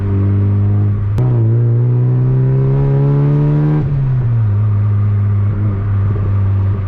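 From inside a Mazda MX-5 NB, the engine hums steadily, then climbs in pitch as the car accelerates hard for a few seconds before the revs drop back to a lower drone. The sound is loud and close.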